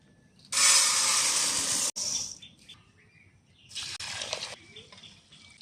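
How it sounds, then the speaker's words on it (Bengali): Broken rice being washed in water, with a steady rush of running, splashing water in two bursts and quieter gaps between them, close by, with faint birdsong in the background. "এবার আমি খুদটাকে ধুয়ে নেবো"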